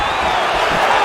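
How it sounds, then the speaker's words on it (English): A video game crowd in UFC 4 roars in a loud, continuous cheer as a fighter lands a takedown, a dense wash of voices filling the whole brief moment. "nice pop there from the crowd as he finally gets the takedown"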